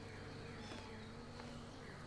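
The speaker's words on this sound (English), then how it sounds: "Do you hear the insects?" Insects swarming near a ruin in Skyrim, a steady, dense buzzing drone that fills the whole moment without pauses, fairly close and alone.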